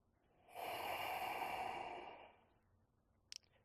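A yoga practitioner takes one long, audible breath through the nose, a soft, airy hiss that swells and fades over about two seconds, followed by a faint click.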